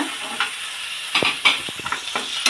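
Vegetables, including snake gourd and tomato, fry in oil in a pan over a medium-to-low flame, with a soft steady sizzle and a few sharp spatula stirs and taps close by.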